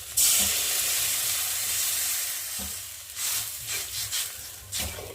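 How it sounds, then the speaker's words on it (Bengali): Water poured onto a hot fried spice paste for a fish curry sets off a broad, steady sizzle and steam hiss that starts loud and gradually settles, with a few soft stirring scrapes near the end. "আর এখন আমি জল দিয়ে দেবো।"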